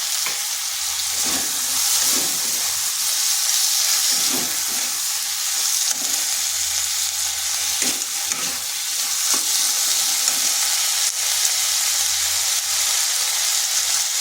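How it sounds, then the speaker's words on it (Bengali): Diced potato pieces frying in a pan with a little salt, a steady, loud sizzle with occasional stirring scrapes and clatters throughout, close up and without talk. "আলুটাকে একটু ভেজে নেব।"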